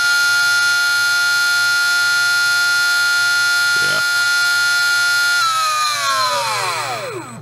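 A Surpass Rocket V6 17.5T stock spec brushless motor running at about 21,000 RPM at 30 degrees timing gives a loud, steady high-pitched whine with sharp harmonics, then winds down, its pitch sliding lower near the end.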